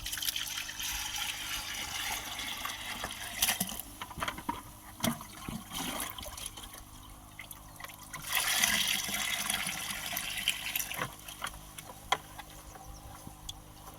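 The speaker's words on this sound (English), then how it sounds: "So it just takes 2 seconds to put it through a cheesecloth." Compost tea runs through a cheesecloth filter into a garden sprayer container, a soft steady trickle and splash with a brief stronger surge of pouring midway, heard alone.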